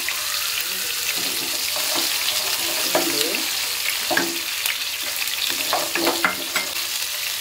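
Steady sizzling of onions sautéing in hot oil in a pan, with occasional stirring clatter and scraping, close up and continuous throughout.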